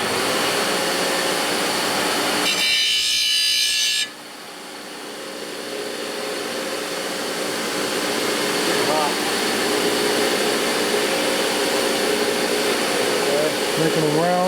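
An angle grinder chamfering a part during a 2009 Harley-Davidson FLH touring primary chain repair, a harsh high whine that cuts out briefly, then a steady loud grinding roar; a person talks over it.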